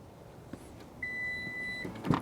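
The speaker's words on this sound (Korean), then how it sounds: "알람과 함께 열리고요" Electronic alert tone on a Lexus RX 450h as its powered tailgate opens: a single sustained steady beep lasting under a second, clear and fairly close, with faint background clicks and a short thump after.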